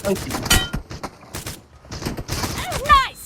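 Video game SKS rifle gunfire cracks in short bursts alongside other game effects, with someone talking over most of it.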